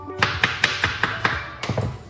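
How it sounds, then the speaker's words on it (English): A knife chops through a pineapple on a cutting board in a quick series of about eight sharp thunks, evenly spaced, close up and clear with no talking. "we're going to cut up the pineapple and put it into a blender like this"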